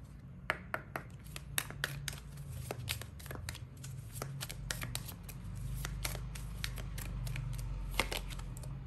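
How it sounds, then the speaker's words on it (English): A tarot card deck is shuffled by hand indoors, a rapid series of crisp, close riffling snaps and taps repeating irregularly over a low background hum, with no talk. "You saw me shuffle the deck, right?"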